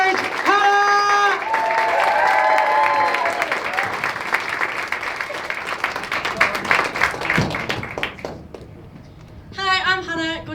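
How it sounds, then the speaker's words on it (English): An audience applauds steadily as a performer is welcomed onto a stage, the clapping dense at first then thinning, with voices speaking over it at the start and end. "Keep the applause going, keep the applause going."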